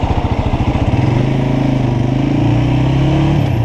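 A motorcycle engine runs loud and close, throbbing steadily as its revs climb. No voices are heard over it.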